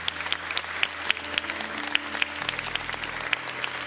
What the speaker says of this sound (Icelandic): Og eigum ekki að gefa öllum gott klapp.